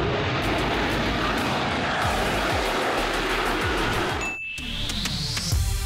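A vertical takeoff and landing jet aircraft hovering, its loud, steady engine roar filling the air close by, then briefly dropping away before a rising whine builds as the thrust returns.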